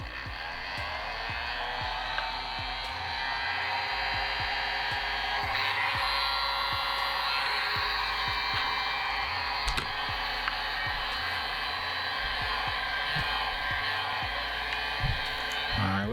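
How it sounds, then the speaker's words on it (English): A heat gun on its low setting runs as a steady, close whirring blow of air while a broken Nexus 7 (2013) tablet screen is being loosened, with faint tapping and handling noises over it. "Now we're gonna be using a heat gun. I'm gonna start out on low"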